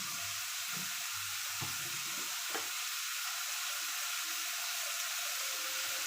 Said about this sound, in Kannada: ಈ ಥರ ಇದನ್ನು ಒಗ್ಗರಣೆ ಹಾಕಬೇಕು.